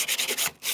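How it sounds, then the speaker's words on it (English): Short strokes of 100 grit sandpaper rubbing and burnishing a surface, a quick series of close, soft scratchy passes with a brief pause near the end. "So just get a piece of sandpaper. This happens to be 100 grit, but you can use almost any sandpaper."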